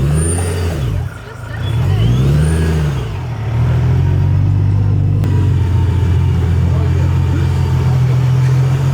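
A supercharged Infiniti G35 engine idles with a deep, loud rumble, swelling briefly in a couple of light-throttle blips before settling into a steady close drone; people talk over it.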